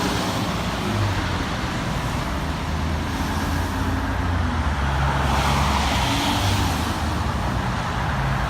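Cars pass through traffic lights on a suburban road, a continuous broadband roadway rumble with gentle swells as vehicles go by, moderately near and without speech.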